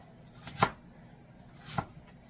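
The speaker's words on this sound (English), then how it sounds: "So I'm going to cut thin slices" A knife slicing thin pieces of tomato or onion for fresh pico de gallo on a cutting board, two distinct crisp chops about a second apart, close and clear.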